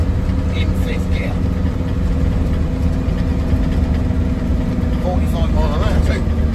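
A Mercedes 123 pulls up a hill at full throttle in fifth gear, its engine droning in a steady, loud, low-pitched hum from inside the car. Faint road noise sits underneath, and there is no talk.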